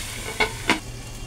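Ridge gourd is stirred in a pan as it sizzles, with two quick scraping strokes over a steady, low frying hiss, close by and with no voices.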